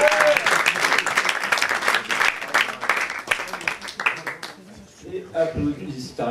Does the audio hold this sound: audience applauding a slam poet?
yes